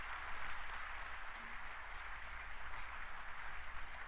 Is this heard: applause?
yes